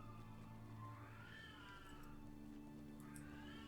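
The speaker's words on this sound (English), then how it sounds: "Fifi, why are you howling?" A pet cat howls in long, wavering, drawn-out cries, heard faintly over a steady low background hum with no talking.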